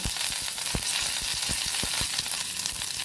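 Steady hiss of mustard seeds and curry leaves frying in hot oil with scattered sharp pops and crackles throughout, loud and close, no voices.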